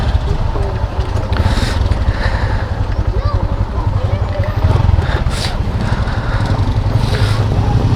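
A motorcycle engine starts and then idles nearby, with a steady, loud mechanical rumble running throughout and swelling briefly partway through.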